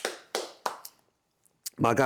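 A few sharp claps sound up close at an uneven pace, fading into near silence before a voice begins speaking.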